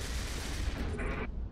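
Burst of video game gunfire aimed at a Zealot enemy, a short dense rattle of rapid shots under a steady noisy bed, ending abruptly after about a second.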